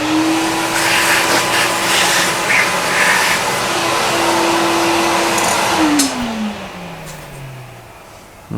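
Vacuum cleaner runs in a workshop with a steady whining drone, then winds down with a falling pitch as it switches off near the end. No one talks.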